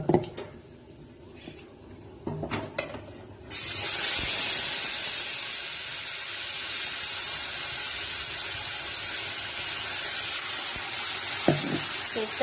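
A spice paste hits hot oil with black cumin seeds, bursting into a loud, sustained sizzling hiss after a few quieter clinks and knocks, close up and steady to the end, with no talking.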